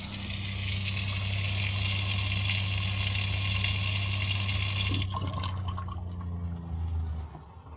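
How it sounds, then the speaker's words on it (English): Water runs hard from a kitchen faucet and shower in a small casita travel trailer, with the freshwater pump on. The flow is a steady, loud rush that cuts off sharply partway through, leaving a quieter dripping and a low pump hum. "I turn on the water pump and run both the kitchen faucet and shower for about a minute."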